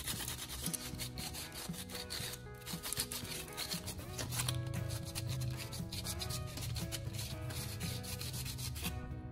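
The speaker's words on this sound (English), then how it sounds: "so I'll sand those sections until the shiny copper is exposed" Sandpaper rubbing the ends of enamel-insulated copper wire to strip the coating, heard as a steady close-up scratching and rasping that continues through the whole stretch.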